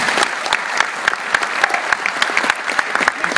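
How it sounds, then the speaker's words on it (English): An audience at a film screening presentation applauds Bill Moseley, giving a steady, lively round of close, crisp clapping that continues evenly for a few seconds. "please give a round of applause for Bill Moseley"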